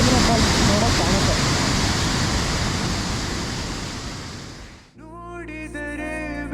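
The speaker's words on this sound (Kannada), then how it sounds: "ಸಿರಿಮನೆ ಫಾಲ್ಸ್ ನೋಡೋಕೆ ಕಾಣುತ್ತೆ" Sirimane waterfall rushing as a loud, steady roar of falling water that fades slightly, then cuts abruptly to a quieter passage with music.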